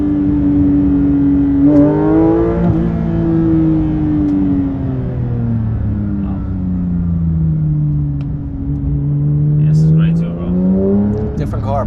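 A car engine hums and revs at close range in a steady, continuous drone, its pitch rising and falling as the car drives, with people talking over it throughout.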